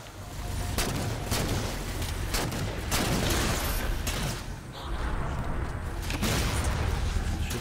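Bursts of rapid gunfire and explosions in Halo 4 Spartan Ops co-op on Legendary difficulty, overlapping shots and booms coming in irregular clusters at moderate loudness, with no talk over them.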